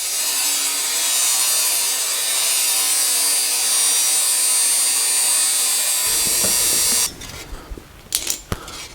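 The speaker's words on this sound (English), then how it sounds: "So now I will clean up the bottom side of the inner sill so we can weld it properly." A power tool scours the rusty underside of a car's inner sill before welding, a loud, steady abrasive grinding that runs for about seven seconds, then stops, leaving a few faint clatters.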